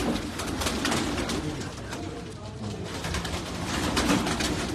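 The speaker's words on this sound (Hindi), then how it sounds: "बहुत अच्छे कबूतर।" Pigeons kept by a fancier coo and call in a steady, dense murmur, a flock close by with overlapping soft cooing throughout, over a busy background.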